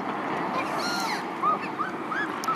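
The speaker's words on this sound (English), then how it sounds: "And geese." Faint honks and calls from geese and other waterfowl at a lakeside wildlife park drift in at a distance, with a few short cries rising over a low outdoor background.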